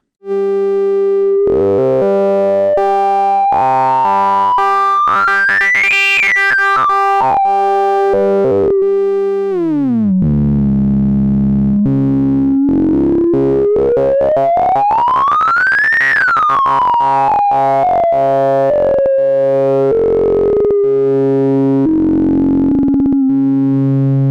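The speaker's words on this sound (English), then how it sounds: "The sync input performs a quirky sync effect on the oscillator core itself" Make Noise XPO modular synth oscillator with its sync input driven by Maths, a loud buzzy tone with harmonics sweeping up and down in siren-like glides and stepped pitch jumps, continuous with no voice.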